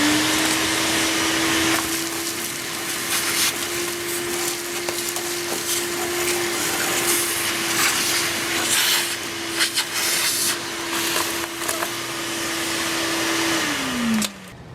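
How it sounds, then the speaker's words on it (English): A vacuum cleaner runs with a steady, loud motor whine while cleaning the condenser coils inside an air conditioner unit, with scraping and rattling over it, then the motor winds down near the end. "After you vacuum the side of the coils, you also want to vacuum inside the unit."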